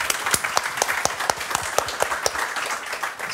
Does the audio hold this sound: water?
no